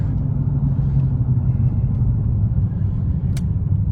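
Lifted 2017 GMC 3500 Denali 6x6 truck on 22-inch Fuel wheels cruising down a road, a steady low engine and tire rumble heard from inside the cab, even and unbroken, with one brief click near the end and no talk.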